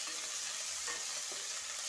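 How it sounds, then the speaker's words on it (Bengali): Garlic and ginger frying on a stove at low-medium heat, a soft even hiss of oil that stays close and constant, with faint stirring scrapes and no one speaking. "তো একটু রসুন আর আদাটা ভেজে নিচ্ছি"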